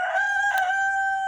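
A rooster crows once, loud and close, in a bright sustained cock-a-doodle-doo over a quiet farmyard background, with no speech.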